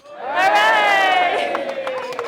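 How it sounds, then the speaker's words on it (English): Wedding guests cheer for the newly married couple during the reception speeches, a loud crowd of voices with a sustained whooping tone that swells near the start and then tapers off, mixed with scattered claps. "Let's cheer for the happy couple."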